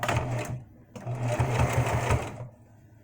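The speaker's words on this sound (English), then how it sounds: "So I'm going to put this on serger. I like a serger stitch." A serger sewing machine runs over soft fabric in two bursts, a loud close whirring chatter that stops briefly and restarts, with a person talking over it.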